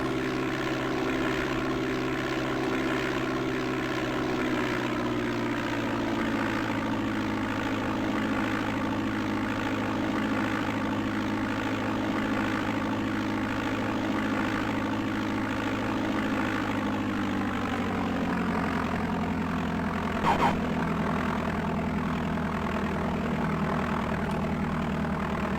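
Piper Cherokee propeller plane in the DOS game Flight Simulator 5.1, departing Chicago Midway: a steady, loud single-engine drone and propeller buzz that holds for the whole stretch, its pitch shifting slightly as the plane accelerates.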